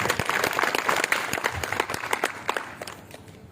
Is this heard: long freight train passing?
no